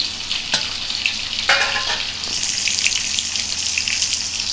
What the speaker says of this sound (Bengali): এবার মশলাগুলো একটু ভাজা ভাজা হয়ে গেছে, টমেটোগুলো দিয়ে দিচ্ছি